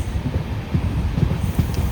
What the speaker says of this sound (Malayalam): ആലപ്പുഴ വിട്ട് ഞങ്ങൾ പോയിക്കൊണ്ടിരിക്കുകയാണ് ട്രെയിനിൽ.